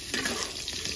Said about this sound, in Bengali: ওই ভাজা তেলের মধ্যে আলুটা ভেজে নেব।